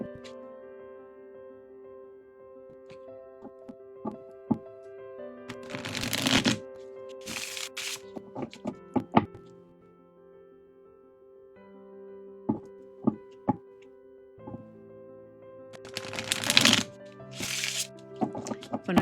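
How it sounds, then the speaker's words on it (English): A deck of cards being shuffled in two bursts of crisp riffling, with soft taps and knocks between them over quiet background music. "When I'm shuffling, I usually wait for my guides to tell me when I'm done."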